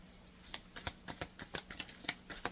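Tarot cards are shuffled by hand close up, a quiet run of crisp riffling clicks and soft flicks repeating in an uneven rhythm for a couple of seconds, with no talking over them.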